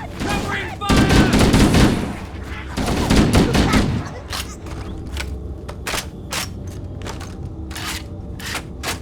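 Rapid bursts of gunfire from Halo: Combat Evolved Anniversary on Xbox Series X, a dense loud volley for the first four seconds and then sharp scattered single shots cracking at irregular intervals.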